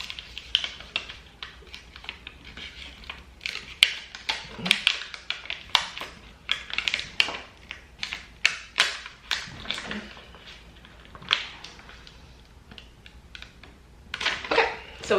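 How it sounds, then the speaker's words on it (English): Vinyl transfer tape rubbed down and peeled up backwards during Cricut layering, heard as quiet, close crackly rubbing strokes and sharp tacky peeling bursts in irregular clusters. "do a little rub, and then I'm gonna peel it up backwards"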